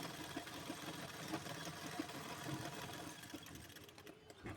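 A sewing machine runs a steady straight stitch along the lining side of a blouse, its motor whirring continuously at close range with a faint rhythmic clatter of the needle, slowing slightly near the end.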